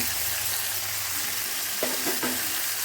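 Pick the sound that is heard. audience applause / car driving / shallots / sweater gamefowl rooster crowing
shallots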